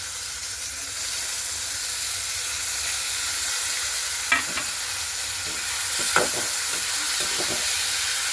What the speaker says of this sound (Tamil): இனிமேல் நான் இந்த தக்காளி பழத்தை இந்த வெங்காயம் வறுத்த வெங்காயத்தில் போடுறேன்